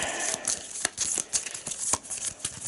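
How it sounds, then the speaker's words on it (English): Arkham Horror encounter cards being shuffled together, a series of quick crisp snaps and riffles in irregular bursts, close and fairly quiet. "Shuffle these together then."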